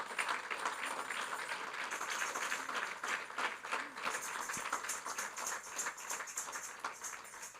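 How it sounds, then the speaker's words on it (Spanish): Church congregation applauding, a dense, sustained crowd of clapping that runs steadily throughout at moderate loudness. "Sí, denle un aplauso al Señor"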